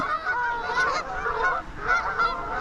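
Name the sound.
Canada geese honking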